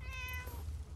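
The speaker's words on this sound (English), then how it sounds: "I can't believe that Penny's cat isn't robotic." A cat meows in Fallout 76, one clear drawn-out call with a rising then falling pitch over a steady low background hum, close and loud with no talk.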